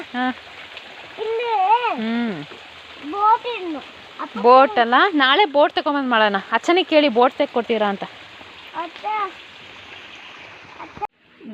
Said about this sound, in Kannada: ನೀರ್ ಹೋಗ್ತಾ ಉಂಟು ನೋಡಿ ಅಲ್ಲಿಂದ ನೀರು ಬರ್ತಾ ಹರಿತಾ ಇದೆ